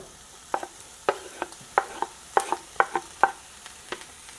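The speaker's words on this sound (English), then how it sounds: "We'll start to move that ham in, that sliced ham" Sliced ham slides off a cutting board into a pan, giving a series of soft, quick scrapes and light thuds, about a dozen short bursts at a close, quiet level with no talking.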